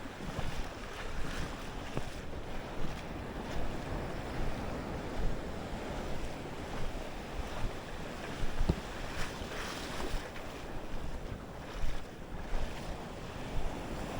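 Surf washing onto a sandy shore during shore casting, a continuous roar of breaking waves with steady wind buffeting the microphone and no voices.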